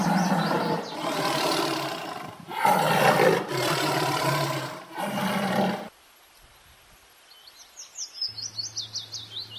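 A tiger roars in several loud, sustained bursts, then breaks off, leaving a quiet stretch with faint bird chirps and a low hum near the end.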